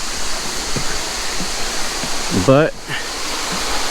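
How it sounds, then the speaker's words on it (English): A waterfall on Laurel Fork Falls Trail in South Carolina's Jocassee Gorges roars as a constant broad wash, with a person briefly speaking over it partway through. "The waterfall is supposed to be, I think it's off to our right"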